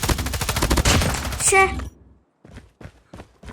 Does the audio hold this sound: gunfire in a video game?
yes